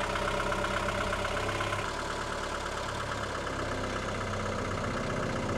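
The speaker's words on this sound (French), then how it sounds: "Oui, il tourne bien le moteur." An engine idles steadily with a low, continuous rumble, at moderate level and alone for several seconds.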